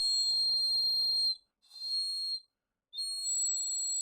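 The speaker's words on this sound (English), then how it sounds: "To the human ear, the dog whistle sounds much like a hiss." Three sustained, piercing high-pitched dog whistle blasts separated by short gaps, thin and hissy, with no other sound around them.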